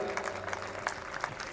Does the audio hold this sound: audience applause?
yes